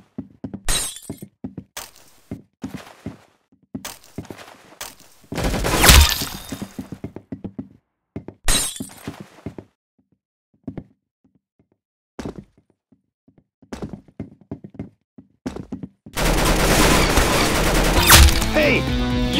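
Gunfire in the Roblox game Arsenal comes in sharp bursts of rapid shots and cracks with gaps of quiet, ending in a dense loud stretch of continuous firing and clatter.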